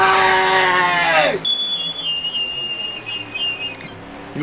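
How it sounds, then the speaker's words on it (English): A voice shouts at first, then a high, thin electronic whistle sounds steadily for a couple of seconds over quieter NASCAR racing game noise. "You hear the whistle?"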